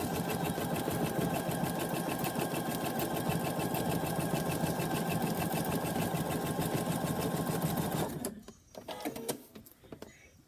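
A sewing machine stitches quilt fabric in a steady, fast, even hum and clatter for about eight seconds, then stops, leaving faint handling noises.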